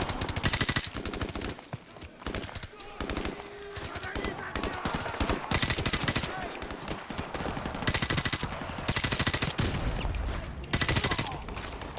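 Video-game gunfire from Call of Duty Modern Warfare Remastered: loud, rapid automatic bursts and repeated shots come in dense waves, with the player's voice mixed in.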